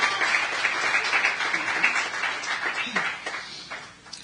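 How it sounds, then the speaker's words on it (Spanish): A church congregation claps in praise during a sermon about Jesus rising from the tomb, a moderate wash of applause with some voices beneath, gradually dying away. "denle un aplauso al Señor, porque Él vive"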